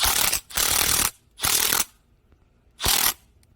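Power tool ratchets in three loud bursts of whirring clicks, each lasting under a second with short pauses between, as it tightens a garden hose connector during a repair.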